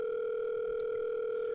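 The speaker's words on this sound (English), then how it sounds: "the line finally rings" In the video game The Letter, a telephone line rings with a steady, loud electronic tone that holds unbroken for the whole moment, with nothing else heard.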